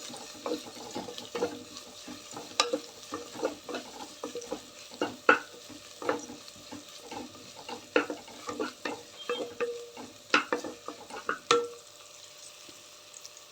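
A spoon scrapes and taps intermittently through a potato and sago kichdi mixture in a pan, with irregular close clicks and soft scraping over a quiet background and no talk.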